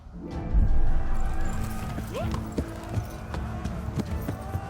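Clip-clop of a horse's hooves running in a video game, mixed with game music and effects, steady hoofbeats under a busy mix with a brief thud.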